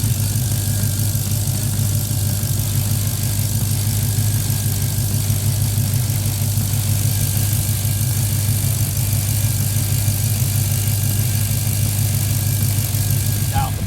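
The supercharged engine of a 2016 Dodge Charger Hellcat idles with a steady, loud, even rumble and whine throughout, while someone talks nearby.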